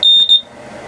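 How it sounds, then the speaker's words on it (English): The propane detector in an RV sounds its test tone, a loud, piercing, high-pitched electronic beep in two quick bursts, then it cuts off and leaves a faint low room hum. "Let's just press the test button right below the lights and we can hear the tone."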